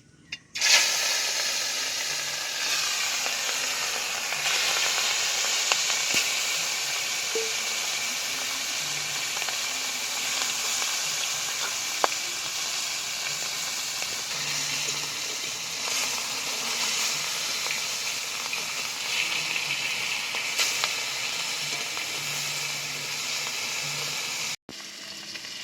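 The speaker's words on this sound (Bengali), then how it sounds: "তেল গরম হয়ে গেছে, এবার আমি মাছটা ভেজে নেব।" Katla fish frying in hot white cooking oil, a steady dense sizzle and hiss that holds evenly for about twenty-five seconds, close and fairly loud, with no voices over it.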